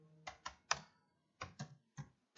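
Keys pressed on a computer keyboard, several sharp separate clicks close by in two small uneven groups with brief pauses between them.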